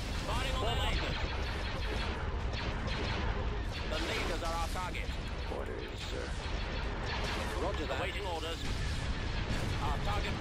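Artillery barrage striking ships in Star Wars: Empire at War: continuous heavy booms, blasts and crackling fire layered densely without pause, with a voice talking over the battle.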